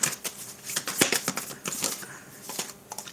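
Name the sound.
shuffling a deck of tarot cards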